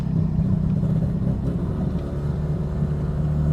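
A car with an 8HP automatic transmission pulls through its gears near 3,200 RPM, giving a steady, loud low engine rumble heard from inside with no break or voice.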